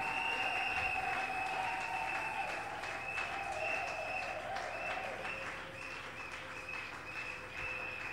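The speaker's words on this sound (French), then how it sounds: "Applaudissons le Seigneur." A church congregation applauds continuously, a steady wash of clapping at fairly low level with a tonal hum running beneath it.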